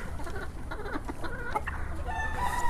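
Parent-stock hens cluck steadily on a chicken farm, a close, busy chorus of overlapping clucks and short calls running throughout with no speech.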